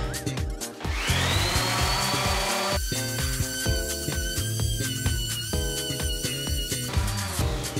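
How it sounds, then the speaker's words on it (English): A disc sander with rough sandpaper works across a wooden floor, giving a loud, close, continuous whirring drone with a pitch that rises and shifts as it moves, running without pause. "I'm going to use my disc sander"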